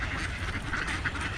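Geese calling at a wild-bird feeding spot in Shakopee, Minnesota: a dense, steady chorus of nasal honks and quacks from a nearby flock, with no talk.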